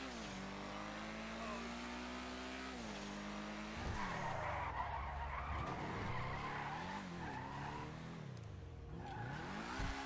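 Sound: car drifting with tire skids in video game GTA Online

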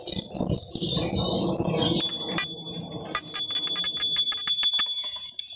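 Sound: small bells rung to make a canary sing

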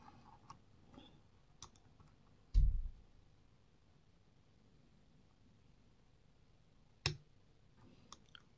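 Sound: picking pins of a Medeco M3 6-pin lock

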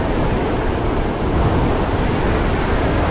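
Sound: wind and surf on a beach

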